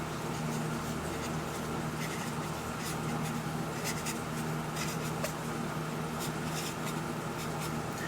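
A pen or marker scratches out a row of numbers on a writing surface, a continuous close scratching with short strokes and brief pauses over a steady background hum, with no speech.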